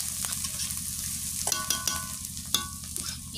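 Onion frying in a pan, crushed coarsely rather than finely ground, giving a steady close sizzle throughout with a few sharp clinks of a stirring utensil against the pan, and no voices.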